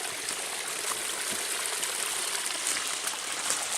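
Water from a mountain spring on a forest hiking trail, flowing in a steady, close rush with an even trickling babble and no pauses.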